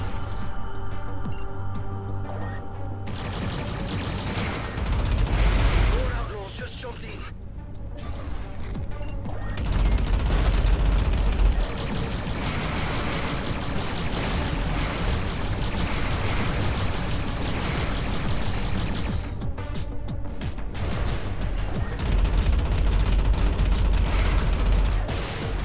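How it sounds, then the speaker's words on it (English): Rapid autocannon fire and crashing explosions from the space combat game Everspace 2, a loud, dense, continuous barrage of shots and impacts that swells in bursts over a busy battle soundscape. "Gosh dang, I love the sound of that autocannon."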